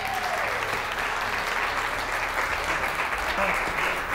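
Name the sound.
audience clapping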